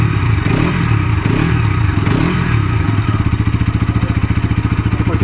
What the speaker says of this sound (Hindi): कुछ इस तरीके की आपको साउंड इस बाइक की आने वाली है गाइस।